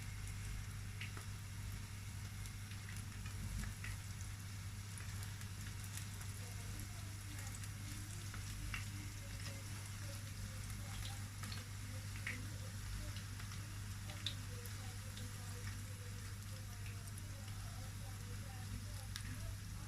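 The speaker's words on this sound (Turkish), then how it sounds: "Şöyle yağım iyice kızdıktan sonra böreklerimi yani kızgın yağın içerisine bırakıyorum." Steady crackling sizzle of rolled Turkish sigara börek pastries frying in hot oil, continuous and fairly even, with a low hum underneath and no clear speech.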